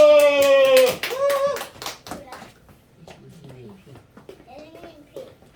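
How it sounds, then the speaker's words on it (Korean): A congregation claps together at a Baptist church's Sunday service, giving a burst of sharp, rapid hand claps. Voices talk over the clapping, and the claps thin out into quieter speech. "박수!"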